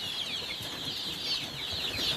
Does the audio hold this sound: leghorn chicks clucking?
yes